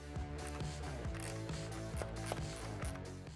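A Fat Wrench torque wrench tightens fairing speaker grill screws on a Street Glide, giving a close, quiet run of rapid ratcheting clicks in short repeated strokes.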